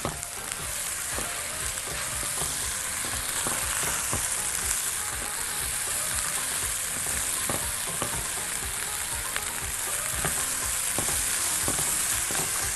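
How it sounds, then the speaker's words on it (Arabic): Colored bell peppers sautéing in a pan for a chicken dish, with a continuous close sizzle and repeated sharp clicks and scrapes of stirring against the pan throughout, no voices. "ونكمل تشويح."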